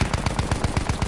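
A machine gun in Battlefield 1 fires a rapid, loud burst of evenly spaced shots, roughly nine or ten cracks packed into about a second, close and heard alone.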